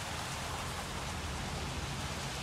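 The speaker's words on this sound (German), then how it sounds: "Der Regen schon wieder." Rain pours in the Jurassic World Evolution video game, a dense, loud, steady hiss of falling water with no voices.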